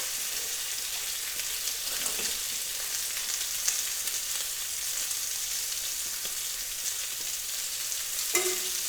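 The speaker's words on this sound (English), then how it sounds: "I like to whisk the dry ingredients just to mix them" Dry pancake ingredients are whisked in a bowl, giving a steady, soft, hissing scrape of the whisk that continues throughout with a few brief louder clinks.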